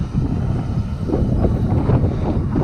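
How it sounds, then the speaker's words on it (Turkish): Wind gusts thump and rumble against the microphone, a loud, low, close buffeting that swells and fades with no talking. "Rüzgarlı diyorum ya."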